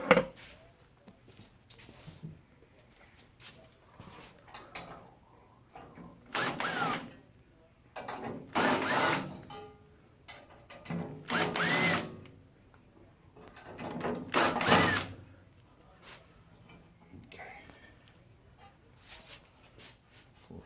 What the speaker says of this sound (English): I think what we're going to have to do next is remove the 3/4 Phillips screws right there.